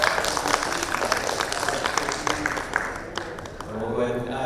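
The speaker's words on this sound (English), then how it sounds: "give a round of applause for Amrit" Audience applause for a speaker at a talk, a broad wash of clapping that holds steady for several seconds and thins slightly near the end, with a voice faintly mixed in.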